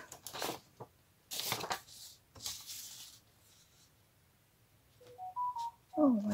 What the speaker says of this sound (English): So sorry, I had my phone still on.